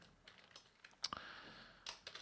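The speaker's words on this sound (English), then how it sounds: "I'm going to do that by typing img" Quiet keystrokes on a computer keyboard, a handful of soft irregular clicks and taps spread across a couple of seconds, close but faint.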